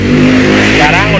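The original petrol engine of a motorcycle awaiting electric conversion runs loudly and steadily at close range, a dense continuous drone with no pauses.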